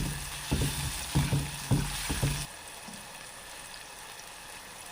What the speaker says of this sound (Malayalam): എല്ലാം കൂടെ കിടന്ന് നന്നായിട്ടൊന്ന് വഴകട്ടെ അല്ലേ.